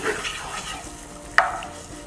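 Crushed boiled potatoes mixed with salt, black salt and chaat masala in a pan for samosa chaat, giving a soft, low scraping stir with one sharp clink of a spoon against the pan midway, no voices.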